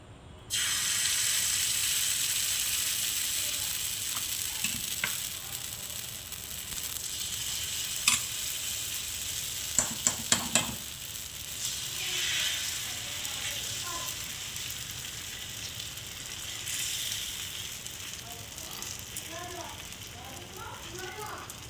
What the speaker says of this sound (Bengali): চাটুটা বসিয়ে দিয়েছি আর এইবারে ব্যাটারটা দিয়ে দিব